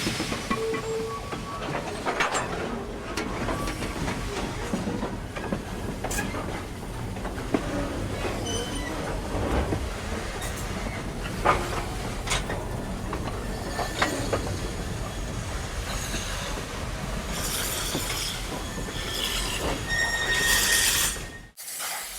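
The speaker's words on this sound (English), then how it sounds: "All trains make a mandatory stop at the level crossing west of Zibolizan." A freight train on a mining railway at Sandaoling rolls through a level crossing west of Zibolizan. A continuous close rumble carries clattering wheels and occasional squeals, then cuts off abruptly near the end.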